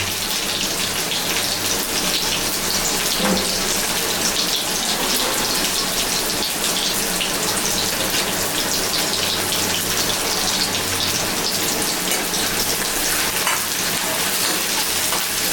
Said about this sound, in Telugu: బాగా చాలా ఫ్రై ఆనియన్స్ ఉడికిపోవాలి